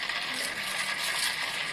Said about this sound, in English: So now I'm just grinding the coffee beans first, and then we can brew them.